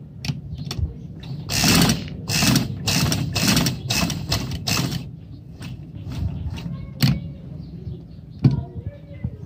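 Straight stitching on gents' shalwar kameez fabric with a sewing machine gives close, mechanical clattering in bursts of rapid stitches, with pauses and a few lone clicks between runs.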